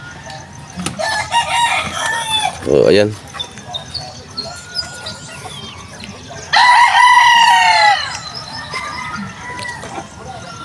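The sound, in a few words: chickens clucking and rooster crowing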